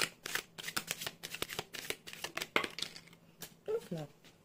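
Tarot cards are shuffled by hand during a card reading, giving a rapid run of crisp riffling bursts up close. A voice speaks briefly near the end.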